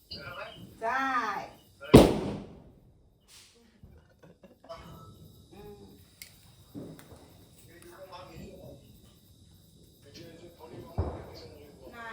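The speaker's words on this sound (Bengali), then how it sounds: "তো এলা ফোটামো চকলেট বম" A chocolate bomb firecracker goes off during a family Diwali celebration with one sharp, loud bang near the start, then a smaller crack near the end, while people talk and chatter before and after.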